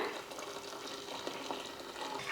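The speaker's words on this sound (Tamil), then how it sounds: "அந்த பால் இதில் சேர்த்துடலாம்" A steady stream of milk pours into a pot off the heat, a continuous soft splashing hiss without any talking.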